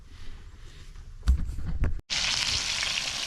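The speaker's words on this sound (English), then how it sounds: "Me and Maggie frying up some sausages, and then some eggs, a little salt and pepper," Sausages sizzle loudly in a hot pan inside a bus, a steady crackling hiss after a brief clatter and a momentary gap.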